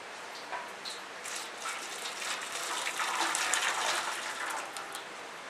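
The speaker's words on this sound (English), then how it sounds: "tip the water in there." Water tipped into a wide tray while making sea salt, giving a steady broadband pour that swells in the middle and trails off, close and moderately loud with no talking.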